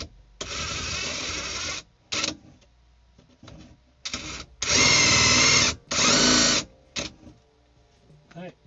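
A power drill whirs in several bursts of varying length, starting and stopping repeatedly, close by with quiet pauses between runs.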